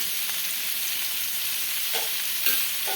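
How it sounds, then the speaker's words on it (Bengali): Kadhai paneer masala with onions and dry-roasted spice fries over a high flame in a kadhai, producing a constant loud sizzle with a couple of brief scraping stirs near the end and no talking. "দিয়ে আমি ভালোভাবে হাই ফ্লেমে এটাকে একটু ভেজে নিচ্ছি"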